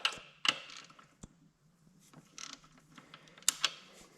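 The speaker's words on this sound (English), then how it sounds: "set the torque wrench back down to 200" A torque wrench tightens engine bolts on a Kohler K Series engine from a Cub Cadet 102, giving sharp close clicks and ratcheting creaks spaced irregularly, with quiet pauses between.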